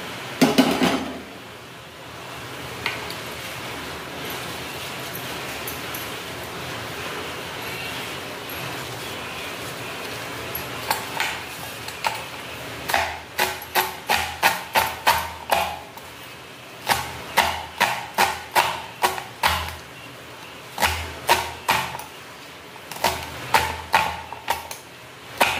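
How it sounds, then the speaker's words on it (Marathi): Wild leafy greens (bafli bhaji) are chopped with a knife on a board, with a quiet rustle at first and then a series of sharp, rapid chopping taps in bursts, close by, with no talking. "हे बघा, अशा पद्धतीने सर्व भाजी मी कापून घेते।"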